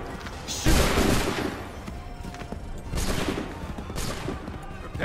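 Musket volley in Assassin's Creed III: a dense crackling burst of gunfire, then two more ragged volleys, loud and close with a rumbling tail.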